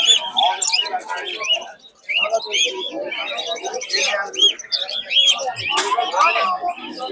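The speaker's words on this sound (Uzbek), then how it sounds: "Karillalar savdo bo'lyapti." Canaries chirp and tweet repeatedly at a busy bird market in Andijan, their bright calls overlapping steadily with voices in the background.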